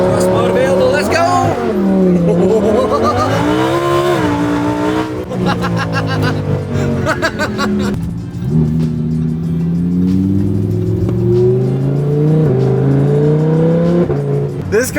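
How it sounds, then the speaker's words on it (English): A rear-wheel-drive car accelerates hard through the gears, its engine note rising and falling up close over a continuous drone while a person speaks on top of it. "This car is seriously just such a treat to drive."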